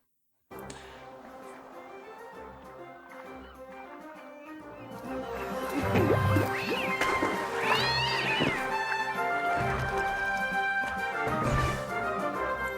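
Cartoon cat meows from the video game Cat Quest ring out over bright game music, several short mewing calls rising in the busier second half.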